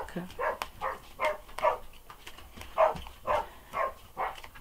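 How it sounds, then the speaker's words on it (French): A dog barks in a deep voice, eight or nine heavy, evenly spaced woofs at a steady rhythm, moderately close, with no talking over them. "Ça, c'est Léna qui aboie, vous voyez. Sa voix bien grave"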